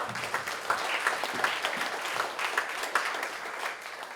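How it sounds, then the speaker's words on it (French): A crowd at a firefighters' recognition evening applauds steadily, a dense patter of many hands clapping at moderate volume without a break. "Encore une fois, une bonne main d'applaudissement pour Alexandre."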